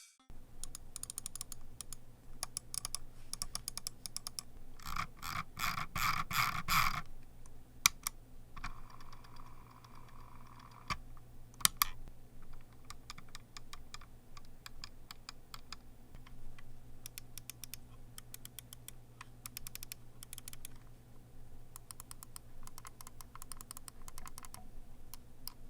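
Button clicks from a Logitech G502 Proteus gaming mouse, a run of sharp, close, dry clicks in quick bursts and scattered single taps, with a dense flurry early on over a low steady hum.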